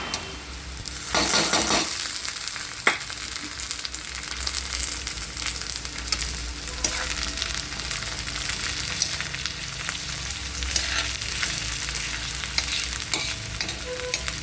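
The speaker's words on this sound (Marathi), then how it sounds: "पहिला आपल्याला ह्याच्यामध्ये टॅमॅटो टाकायचा आहे भाजीला" Tomatoes sizzle with onions in a pan for an egg chutney, a loud continuous frying hiss broken by occasional stirring scrapes and clinks of a utensil, with no voices.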